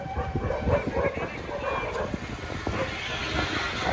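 A dog barks several times at close to middle distance on a roadside during a skating journey toward Nepal, sharp yaps over steady outdoor rumble and background noise.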